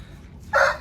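A brief, bright rooster call rises out of low background noise outdoors on a farm, cut short after a fraction of a second.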